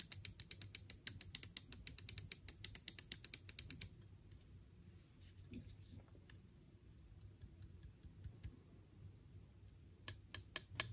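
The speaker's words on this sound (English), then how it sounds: "And now the sound of the left and right click buttons." Left and right main buttons of a Finalmouse Starlight 12 Achilles magnesium gaming mouse click rapidly and crisply for a few seconds up close. A quiet stretch follows with faint handling, then a few more sharp clicks.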